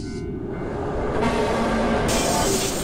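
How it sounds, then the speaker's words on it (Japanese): A train rushes past in the horror game Shin Tsugunohi, a loud, steady rumbling roar that builds and brightens partway through and holds close throughout, with no talk over it. "この電車の音か"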